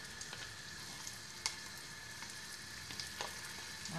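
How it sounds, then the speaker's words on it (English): Oyster mushrooms and garlic soften in a hot pan, giving a faint, steady sizzle with occasional small pops and stirring clicks, and no talking. "So you saute until it becomes soft."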